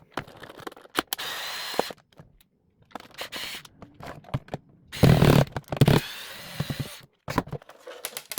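A Dreamcast console has its screws taken out in sped-up footage, giving jumpy bursts of whirring, clicking tool noise broken by short silences, close and loud in places.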